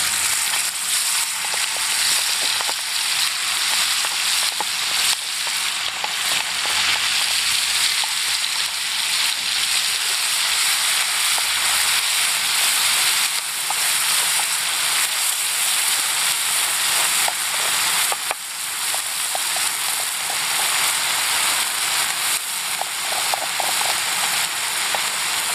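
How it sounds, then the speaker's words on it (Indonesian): Freshly pounded green chili balado spice paste for a crispy grasshopper dish fries in cooking oil, a loud, steady, hissing sizzle that continues unbroken for nearly half a minute with no talking. "yang tadi kita tumbuk kita langsung goreng"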